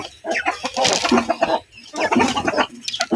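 Pet chickens clucking busily at feeding time, a dense, close flurry of overlapping clucks and squawks in bursts with brief pauses.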